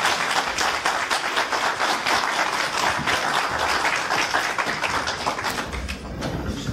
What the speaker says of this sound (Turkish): Alkışlarınızla lütfen.